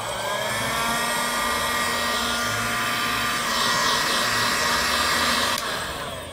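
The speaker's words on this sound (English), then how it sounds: "Use the heat gun." A handheld heat gun blows continuously from start to finish, a loud, steady whirring rush of air held close with a faint tonal whine, used to dry custom-painted slides.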